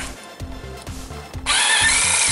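A power tool drives Torx T30 screws out of the radiator support on a VW Jetta/Golf MK5, whirring in short close bursts and then rising into a sustained high whine.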